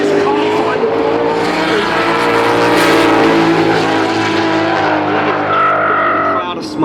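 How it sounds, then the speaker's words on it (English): A drift car on the 3 Sisters circuit pulls away under throttle with a loud, sustained engine roar and tyre squeal, with a commentator talking over it. "Evans squeezes the throttle, starts to drive away."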